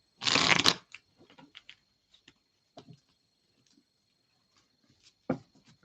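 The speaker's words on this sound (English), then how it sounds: "These are terrible cards to shuffle." Heart-shaped Lovers Oracle cards being shuffled, one loud riffling burst at the start followed by scattered soft taps, slides and clicks of cards being handled close up in a quiet room.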